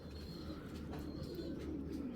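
A ringed pigeon among game-playing breeds coos softly and continuously over a low, steady background hum, faint and close throughout.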